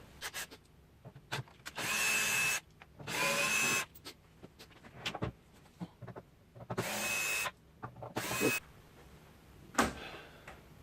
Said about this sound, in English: now that we're going to pop some screws